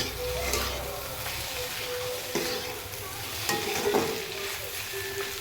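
Food frying in a pan is stirred and turned, with a steady sizzle and scraping strokes of the utensil close by.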